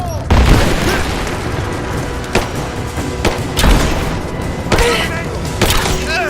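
Gunfire and explosions in the Rise of the Tomb Raider video game: repeated deep booms and sharp bursts over continuous rattling fire, loud and close, with voices shouting amid the combat.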